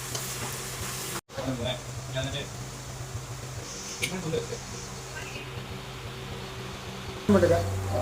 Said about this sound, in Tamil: நல்லா எண்ணெய் காஞ்சதுக்கப்புறம் தேவையான ஐட்டத்தை பூரா போட்டுருவோம் வெங்காயம் போட்டுடலாமா